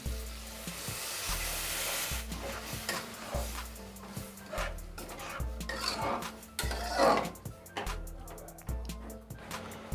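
Chana dal simmers and sizzles in a pan after water is added, with clinking utensils and stirring knocks over a soft bubbling background.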